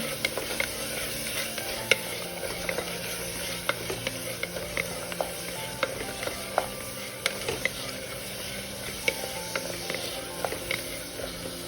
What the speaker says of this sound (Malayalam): നമുക്കിതിലേക്ക് കൊച്ചുള്ളി ഇടാം. നല്ലോണം ഒന്ന് വഴറ്റാം.